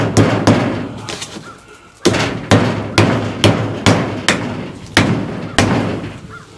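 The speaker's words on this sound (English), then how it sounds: "I'm going to go ahead and pop a nail in here right now" A hammer drives a nail through a polystyrene board into a wall stud on a screened patio, with about nine sharp, loud blows at an uneven pace, each ringing briefly before the next strike.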